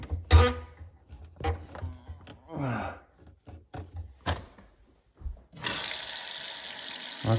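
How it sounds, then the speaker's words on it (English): A faucet being tested after a leak repair: a few clunks and taps, then water suddenly gushes out in a loud, steady rush that continues to the end, with no talking. "So, shall we turn the water on and see what happens?"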